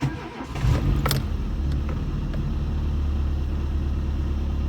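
A Renault Sandero, Logan or Duster engine fires up for the first time after its injector seals were replaced: a brief cranking whir, then a steady, close idle rumble that continues evenly with no voices.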